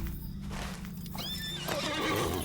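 A horse in The Lord of the Rings Online whinnies with a rising, wavering neigh over a steady game background, followed by hooves clopping along at a brisk pace.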